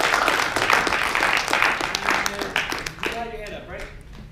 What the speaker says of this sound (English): Give a great big round of applause to Sukanta Ganguly.